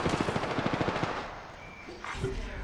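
Rapid automatic gunfire in the Apex Legends video game, a dense burst of evenly spaced shots for about a second, then fading into quieter game effects.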